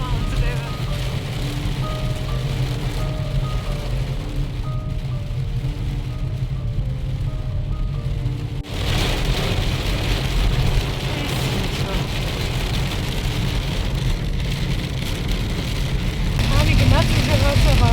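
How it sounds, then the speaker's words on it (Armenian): Heavy rain drums steadily on a moving car, a broad wash of noise over the low engine and road rumble inside the cabin, growing stronger toward the end, while people talk throughout. "Տանի գնաց ուժեղացավ անձրևը,"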